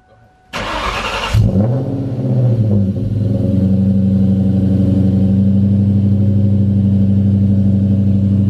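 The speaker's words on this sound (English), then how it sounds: "So the exhaust setup, we got Cook's 1 7/8 long tube headers to the 3-inch X pipe" A sports car's V8 with long-tube headers and a 3-inch X-pipe exhaust fires up with a sharp burst, then settles into a deep, rumbling idle through the exhaust, loud and close.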